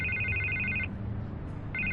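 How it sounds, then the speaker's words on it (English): A telephone rings indoors in two repeated electronic bell bursts separated by a short pause, fairly loud with no talking over it. "I can't get the phone to stop ringing."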